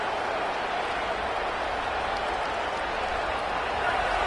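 Roaring stadium crowd from the American football video game Madden, a steady dense wall of cheering noise that holds loud and unbroken, swelling slightly toward the end, with no clear voices on top.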